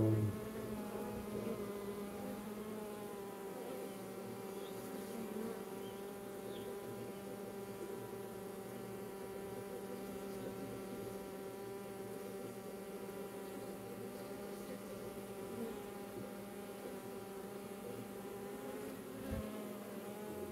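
Honeybees drone in a steady, dense buzz around a virgin queen cage in a bee yard, continuous and fairly close throughout with no talking.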